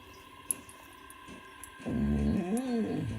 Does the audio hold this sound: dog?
yes